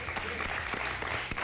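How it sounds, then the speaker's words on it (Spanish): Audience applause rings through a TV contest studio, a thick, even burst of many people clapping throughout, with a few sharper individual claps standing out. "Un aplauso para Sergio, por favor."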